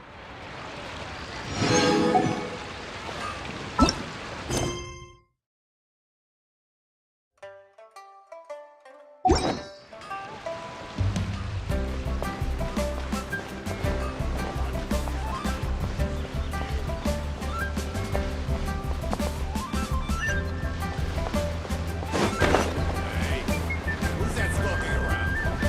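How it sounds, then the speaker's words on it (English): Ocean waves wash against a familiar port in a video game, a continuous rolling surf texture under game music and effects, interrupted briefly by a short silent gap. "The sound of the waves in this familiar port."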